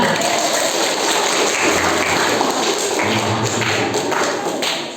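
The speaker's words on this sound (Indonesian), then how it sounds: "Tepuk tangan." Audience applause at a school student council election event, a dense steady wash of many hands clapping at moderate loudness with a low background hum throughout.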